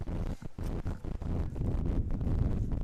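Gusty wind buffets the microphone outdoors at a hurling match in Limerick, a steady low roar with rustling bursts that swell and dip without pause and no voices heard.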